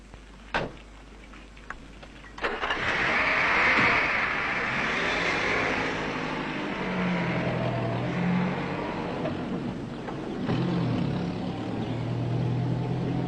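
A Kurdish military jeep's engine drones steadily as it drives along a rough road, a loud continuous rumble with shifting tones and a few knocks early on.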